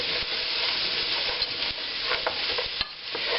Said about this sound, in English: Now the only thing we're doing here is we're cooking them onions, wilting them onions.